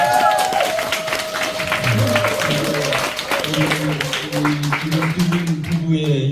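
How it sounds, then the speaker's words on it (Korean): Applause at a small concert and barefoot-walking lecture gathering, with clapping from the audience under a singing or speaking voice and tonal music, moderately loud and continuous. "박수"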